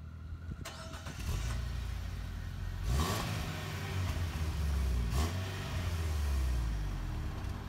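A 2018 Dacia Duster SCe 115 4x2 Access is driven along, its engine a steady low drone under road noise, with two brief louder swells as it accelerates or shifts.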